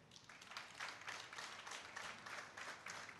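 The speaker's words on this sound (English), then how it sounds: "You heard the crowd clapping there, Dave." A crowd at a handball match in Ireland claps steadily, a faint, distant patter of applause with a loose rhythm and no voices over it.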